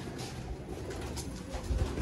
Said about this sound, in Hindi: ये बड़ा कबूतर है चूहा जी, और ये छत वाला पट्ठा या पट्टी है